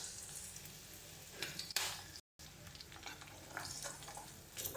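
Garlic and ginger frying in hot oil for a Tamil lentil curry, a steady near sizzle with stirring scrapes throughout and a brief gap midway.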